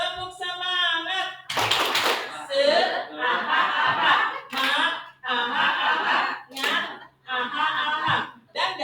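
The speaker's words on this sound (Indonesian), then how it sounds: "Tepuk semangat, prok, aha." A group doing the 'tepuk semangat' spirit clap at a school session, bursts of rhythmic clapping in short patterned sets alternating with a leader's voice and group chanting, with some chuckling mixed in.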